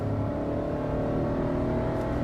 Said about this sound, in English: because it's a 3-cylinder, it sounds like half a Porsche